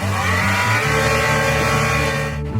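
A sailing boat's engine revs hard at full power while anchoring in a tight sandy bay, a loud, close, steady droning roar with a rising pitch that briefly shifts before cutting off at the end.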